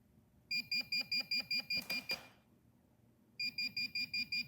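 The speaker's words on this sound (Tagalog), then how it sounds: "alarm with vibration." A handheld pinpointer metal detector sounds its alarm with vibration: rapid pulsed beeps over a buzzing vibration motor, a burst of about a dozen pulses, a short scraping rustle, a pause, then the beeping starts again, close and clear with no talking.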